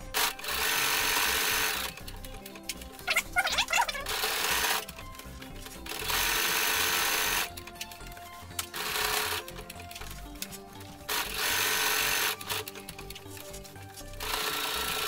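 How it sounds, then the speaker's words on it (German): A sewing machine stitches fabric for a baby cradle cloth, running in loud, close bursts of about two seconds, with brief pauses and fabric handling between runs. "Danach nähst du einfach genauso über Kreuz wieder zurück."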